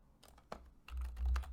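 A computer keyboard typed on at a desk: a few quick, close key clicks in an uneven burst, with a low hum underneath.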